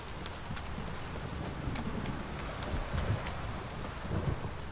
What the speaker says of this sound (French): Si cette pluie s'arrête pas non plus.